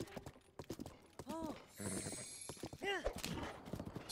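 Horse hooves clip-clop in Zelda: Breath of the Wild, a quick rhythmic gallop of hoofbeats mixed with game sound effects and tonal chimes, with no voice over it.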